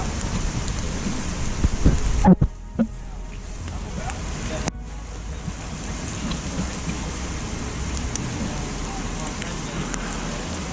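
Rain falls steadily outdoors around a person sitting in wet woods, a dense continuous patter that cuts out briefly twice, with a few close rustles and knocks near the start.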